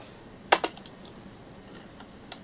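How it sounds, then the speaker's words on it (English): A command is typed on a computer keyboard in a terminal: one sharp, close keystroke cluster, followed by a few faint key taps on a quiet background. "So you just type Combase start after installation and configuration."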